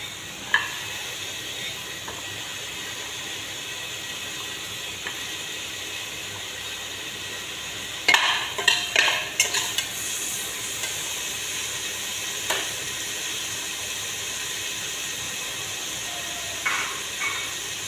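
Sweet pumpkin fries in a pan with a continuous soft sizzle; a cluster of scraping, clattering stirring strokes breaks in midway, with a few more isolated knocks later, all without talk.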